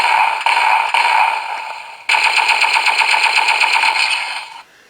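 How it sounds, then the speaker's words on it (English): Rapid electronic firing effect from a Kamen Rider Gavv DX Bake Magnum transformation toy gun with its jaw open, a continuous buzzing burst that shifts to a louder, pulsing rattle partway through before cutting off. "does make a different firing sound when you have the jaw open"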